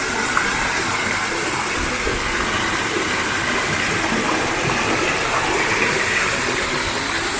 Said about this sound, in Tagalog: May mini waterfalls.